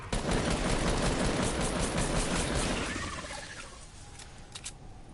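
Dense, sustained automatic gunfire from a Fortnite match, loud and continuous for about three seconds before thinning out into scattered shots and lighter ambient game noise.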